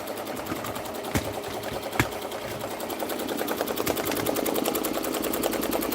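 An MT1501 embroidery machine stitching a cap runs in a steady, rapid mechanical clatter, with a couple of sharper knocks early on and the rhythm growing slightly louder toward the end.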